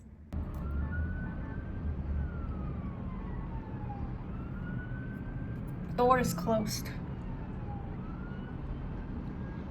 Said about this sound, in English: This is what we hear on the 40th floor from the traffic.